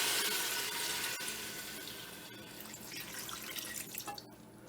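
Turkey juice poured into a cooking pot during Jamaican-style brown stew turkey neck prep, a steady close liquid pour that gradually thins out with small drips and splashes near the end.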